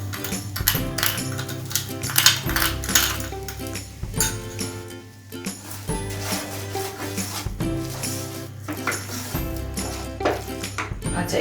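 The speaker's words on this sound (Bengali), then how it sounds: "এবার আমি চিনিটা দিয়ে দেবো।" Sugar is mixed into a soybean laddoo mixture in a pan, making steady scraping and stirring with repeated metallic clinks and scrapes of a spoon against the pan, close and continuous.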